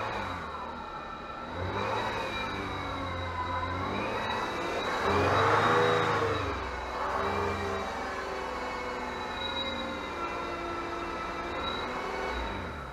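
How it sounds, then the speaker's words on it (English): A Citroën C6 engine revs up and down in swells with a steady high-pitched metallic whine and squeal from a dry bearing running throughout, no talking. "one of the noises is a dry bearing, a whining and a sort of high-pitched squealing, like a dry metal noise"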